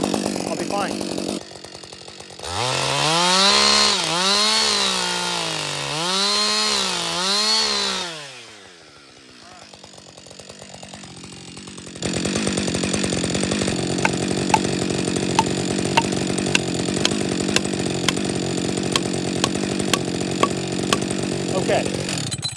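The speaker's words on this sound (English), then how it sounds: "I've bored through, I've created my hinge, created my face cut" A chainsaw bores into a small tree during felling, with the engine revving hard in several rising and falling pulses, then dropping briefly to a lower idle before running again at a steady high drone with faint rhythmic ticking, near and loud.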